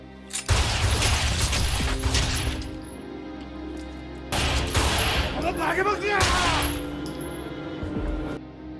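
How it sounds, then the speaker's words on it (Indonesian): Gunfire from a film scene, loud dense bursts of shots and impacts in two main clusters, mixed with clattering mechanical noise and effects, with no clear speech. "Yang mengejutkan, Kamiura tidak mempan ditembak"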